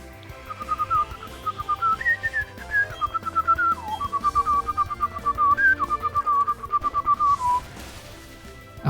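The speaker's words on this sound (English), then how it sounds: "I wanted to try to keep up that whistling as long as I could." Sustained melodic whistling by one person, a wavering tune that rises and dips over about eight seconds, held over background game music with no talk.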